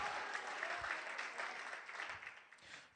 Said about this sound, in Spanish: Dale otro aplauso a Dios